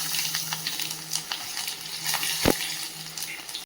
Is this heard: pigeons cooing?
no